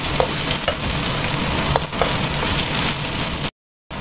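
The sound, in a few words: tofu being sautéed in a pan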